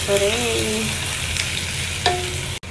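Fish and vegetables sautéing in a pan, with a steady close sizzle and occasional stirring scrapes, plus a brief sharp clatter near the end.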